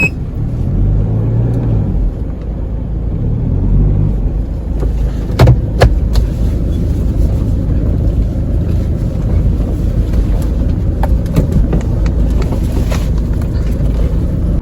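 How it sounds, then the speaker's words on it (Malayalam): A car idling and creeping into a parking spot outside a family home, its steady low engine rumble continuous throughout with a couple of brief knocks midway and faint wind buffeting the microphone. "അതൊക്കെ ഞാൻ വണ്ടി ഇട്ടിട്ട് വരാം"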